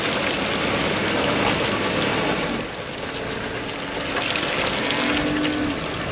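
A truck's wheels spinning in wet, rain-soaked mud without four-wheel drive engaged, a continuous loud roar of engine and churning tires that dips briefly midway before surging again, heard close up with no talk.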